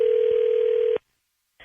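Steady telephone dial tone, loud and continuous for about a second as a call is placed, then it cuts off into silence before a brief faint sound.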